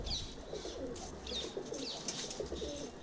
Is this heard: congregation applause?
no